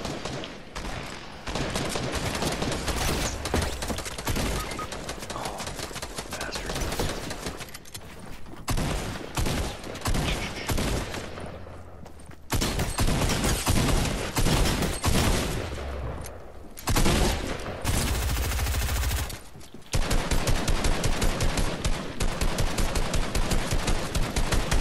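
Fortnite video game gunfire, dense and continuous, with rapid overlapping shots and explosions filling the whole stretch at steady high loudness and barely a pause.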